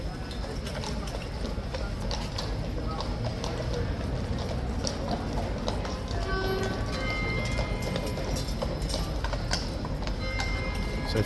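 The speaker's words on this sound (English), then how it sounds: "Okay, in go the horses, one by one." Hooves of the King's guard horses clip-clop as the animals walk in one by one, a steady dense clatter over a constant outdoor crowd murmur.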